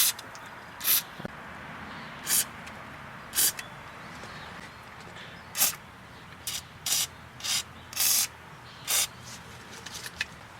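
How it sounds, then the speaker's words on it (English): Repeated short hissing bursts of penetrating oil from an aerosol can onto a front strut bracket of a 2000 Chrysler 300M, about a dozen quick sprays at uneven intervals, close and fairly loud against a quiet background. "I'm just going to spray some penetrating oil."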